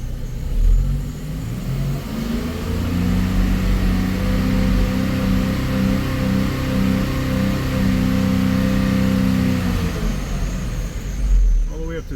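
Car engine held at a steady elevated rev during no-power fault diagnosis, a loud sustained droning hum with harmonic layers that rises, holds for several seconds and then drops back toward idle; someone talks over it.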